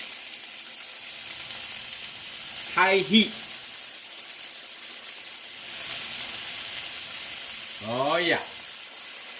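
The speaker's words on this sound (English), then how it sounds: "The sound is they evaporate, they burn off the alcohol, the content of the wine." Splashed cooking wine sizzles and hisses steadily in a hot wok over high heat while shrimp and vegetable stir-fry noodles cook, with two short spoken remarks over the sound.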